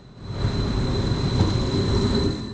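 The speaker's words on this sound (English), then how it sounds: "Our train pulls in around 15 minutes before departure." An SJ Nord Type 76 bi-mode Stadler Flirt multiple unit pulling into a Norwegian station, a steady low rumble with a faint high tonal whine, heard alone at a constant level.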